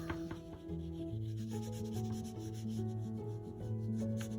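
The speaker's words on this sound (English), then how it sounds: "pick up your white crayon and rub it back and forth to blend that black into the red and yellow" White crayon rubbed back and forth over paper to blend black into red and yellow, a soft steady scratchy rubbing under sustained background music tones, with no talking.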